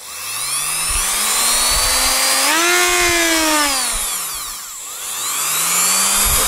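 A Dremel rotary multitool cutting through cable, a loud close high-pitched whine that rises as the motor speeds up, bogs down under load, dips briefly, then spins back up.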